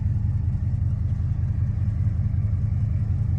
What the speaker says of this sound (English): you can hear a loud alternator. Probably got a bad bearing in it. Slight exhaust leak.